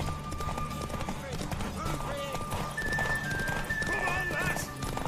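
A Witcher 3 horse gallops with rapid hoofbeats and neighs during a race, with voices and game music heard over the hooves.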